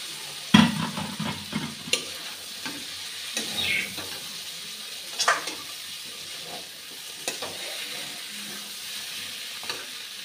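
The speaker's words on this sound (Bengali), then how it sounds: "মশলাটা দেখুন খুব ভালো করে ভেজে নিয়েছি। আলুগুলা দিয়ে দিচ্ছি।" Potatoes going into spice paste frying for a katla fish curry, with intermittent sizzling bursts and stirring scrapes in a pan, a sharp splash of sizzle near the start, close and moderately loud.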